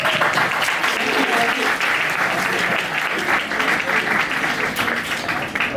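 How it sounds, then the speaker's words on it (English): A crowd at a tech meetup applauds loudly and steadily, a dense wash of clapping that holds its level for several seconds. "a round of applause for everyone for coming"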